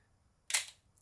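A Nikon FM3A film SLR fires its shutter once: one crisp mechanical snap that rings out briefly before quiet returns, heard close up in a silent room.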